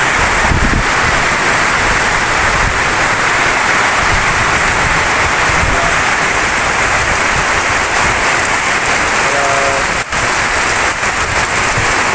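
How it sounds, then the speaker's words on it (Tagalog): Heavy rain pours down in a dense, continuous roar in Pototan, Binmaley, Pangasinan, with strong wind gusting across the microphone throughout. "Binuhos ang lakas ng ulan."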